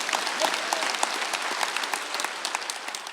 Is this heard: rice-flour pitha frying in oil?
no